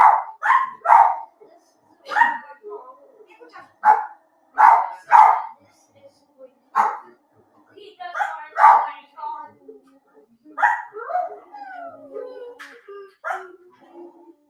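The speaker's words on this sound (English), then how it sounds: "are you guys hearing these dogs?" Two family dogs bark repeatedly indoors, close and loud, in uneven bursts with short yips and a whimper between them. No one talks over them.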